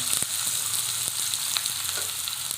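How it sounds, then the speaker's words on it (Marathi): Cumin seeds and onion frying in hot oil in a pan, a steady close sizzle with a few sharp crackles and pops throughout. "आता त्याच्यामध्ये जिरं टाकलाय बघा जिरा बी आता त्रास करून घ्यायला लागलाय जरा त्याच्यानंतर कांदा टाकलाय बघा"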